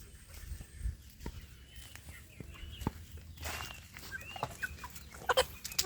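Free-range village chickens in a netted enclosure give soft clucks and chirps. The calls are scattered and fairly faint, with light rustling and footsteps in a quiet outdoor setting.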